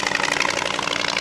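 A Polikarpov Po-2 biplane's radial engine runs steadily, a continuous loud broadband drone with a rough pulsing texture and no break.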